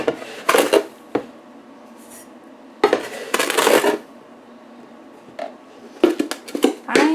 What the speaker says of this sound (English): now we're going to add 4 cups of sugar